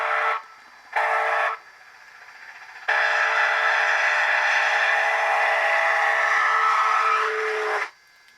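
A Rapido CPR H1b Hudson 4-6-4 model locomotive's Doppler whistle, with ESU LokSound DCC sound, sounds in two short blasts, then one long sustained tone that holds steady for several seconds before cutting off.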